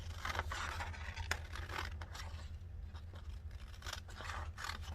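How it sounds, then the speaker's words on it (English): Scissors snip through paper being trimmed for a handmade journal signature, a close, steady run of crisp cuts and rustling with one sharp snap partway through, no voices. "I'm gonna cut it."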